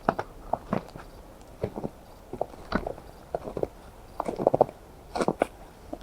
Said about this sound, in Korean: 눈 밟는 소리라든지 뭐 이런 것들 한번 좀 들려드려 보도록 할게요